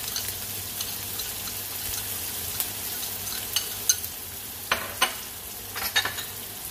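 Minced shallots and garlic frying in a pan before oysters are stir-fried for porridge, with a steady low sizzle and several sharp clacks of a utensil stirring against the pan near the end.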